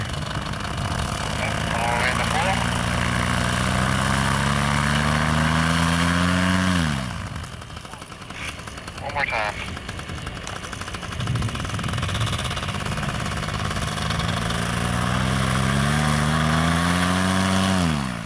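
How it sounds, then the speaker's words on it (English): A paramotor's small engine warming up drones loudly and steadily, dips quiet briefly, then revs back up to a strong rising whine; a voice speaks briefly during the lull. "We're warming up the engine there."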